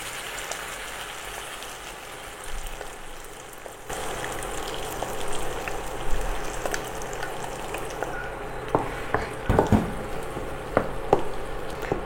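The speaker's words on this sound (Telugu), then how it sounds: "సన్నగా కట్ చేసి పెట్టుకున్న ఎల్లిపాయలు, మిక్సీ పట్టుకున్న టమాటా చట్నీని తాలింపులు వేస్తాం." Tomato chutney tempered with thinly sliced garlic in hot oil, a loud continuous sizzle that jumps up sharply partway through as the tempering hits, with crackling pops near the end, no speech.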